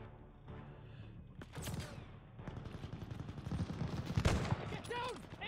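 Rapid gunfire in a Call of Duty Vanguard battle, including machine gun fire from a half-track, with bursts that grow louder and denser toward the end and voices heard in the mix.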